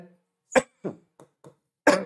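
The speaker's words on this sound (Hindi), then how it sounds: "सॉरी यार मुझे खांसी आ रही" A few sharp coughs in quick succession, close and loud, with a final harsher burst after a short pause.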